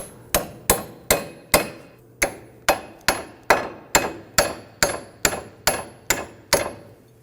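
A hammer drives a chisel tip into the tin shield on a Ford Focus during front lower ball joint work, with about fourteen loud, sharp metallic strikes at a steady rhythm, each ringing briefly before the next.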